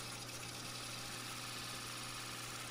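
A wood lathe spinning while coring out a bowl, throwing wood chips: a steady, loud, continuous motor drone with a low hum and broadband whir, unbroken and unchanging throughout.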